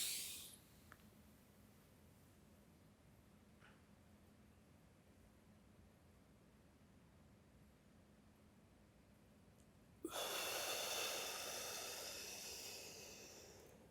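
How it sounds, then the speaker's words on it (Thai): Slow deep breathing during an Anapanasati meditation exercise: a long quiet stretch of faint breath and hiss, then a sudden strong exhalation pushed out through the mouth that stays loud and gradually fades. "หายใจ ลึก ยาวช้า แล้วเก็บเอาไว้ จนกระทั่งกั้นหายลมหายใจไม่ไหวแล้วค่อยปล่อยออกมาทางปาก"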